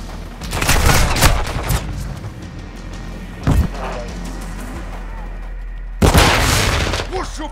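Loud bursts of gunfire in Call of Duty Modern Warfare 2 multiplayer come in three bouts: a cluster of shots early on, a single sharp blast midway, and another volley near the end, with quieter battlefield noise between them.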